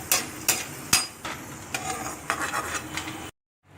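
Raisins fry in ghee in a kadai, giving a crackling, sputtering sizzle with a few sharp clinks of a spoon against the pan, close up, before the sound cuts off abruptly.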